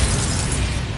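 A Bombarda spell explosion in the video game Hogwarts Legacy, a short loud blast with a crackling, debris-filled burst lasting about a second.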